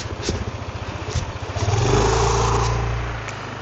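A motorcycle engine idles with a quick, pulsing putter, then revs up into a louder, smoother drone before easing back slightly, heard close with no voices.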